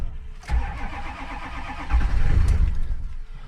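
A Ford F450 with a 6.0 diesel cranks on a cold start without being plugged in: a close, loud starter churn with rhythmic compression pulses that surges twice, nearly catching without fully firing.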